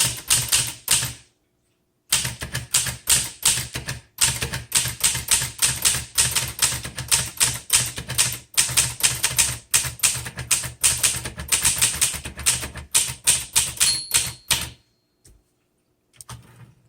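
Rapid clacking keystrokes on a 1959 Cole Steel vintage typewriter, crisp and close, run in bursts with brief pauses and a few heavier carriage strikes.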